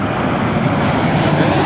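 An airliner comes in to land at Toronto Pearson Airport, a loud, steady engine roar that holds throughout the short stretch.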